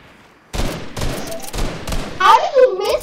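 Rapid gunfire bursts in the video game Fortnite crack out in repeated volleys across a few seconds, loud and close, with excited players' voices overlapping near the end.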